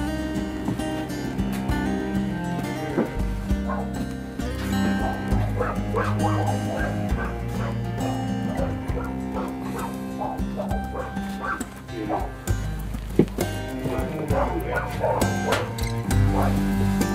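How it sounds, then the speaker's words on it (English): Several dogs bark, yip and whimper nearly continuously, an excited chorus close by. "All the dogs are up. How come the dogs are upset?"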